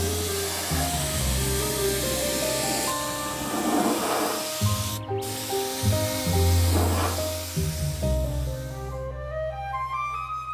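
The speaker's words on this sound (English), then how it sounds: "Dom can airbrush on a coat of protective primer" Dom's airbrush sprays a coat of protective primer onto a smoothed surface during a restoration, a steady close hiss running continuously alongside a low background hum and music.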